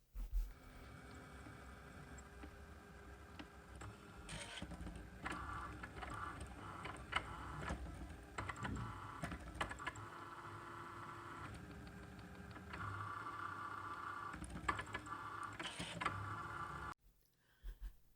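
A Cricut cutting machine drawing with its foil tip runs steadily for a long stretch, a faint mechanical whir with occasional ticks and carriage movements, then stops abruptly near the end.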